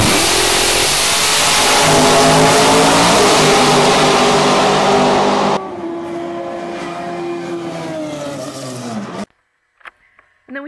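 Race car engine on the Formula 1 circuit in Abu Dhabi roars loud and close while revving, then drops to a quieter, lower drone before cutting out abruptly.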